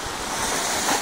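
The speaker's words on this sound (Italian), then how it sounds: "Vediamo il mare di Camarana" Sea waves roll in continuously at Camarana on the coast, a broad, steady surf wash mixed with wind buffeting the microphone, with no voices.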